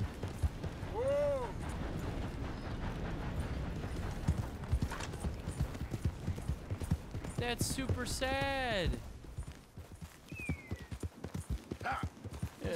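A horse in Red Dead Redemption 2 moves with uneven clip-clopping hooves and lets out rising, wavering whinnies and snorts, heard close under a voice.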